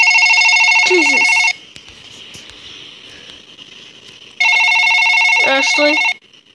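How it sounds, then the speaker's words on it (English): Two loud, close bursts of an electronic phone ring, each about one and a half seconds of steady tone, separated by a quieter gap with a faint voice underneath. "I'm getting a phone call"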